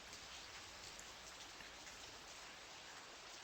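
Steady rain in the Discworld Noir video game, a dense, even hiss of falling drops with no breaks, heard alone at low volume without talk.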